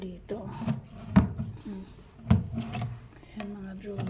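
Wooden drawers in a newly built living room cabinet slide and knock shut, a couple of distinct thuds with rubbing wood in between, close by, mixed with a voice talking.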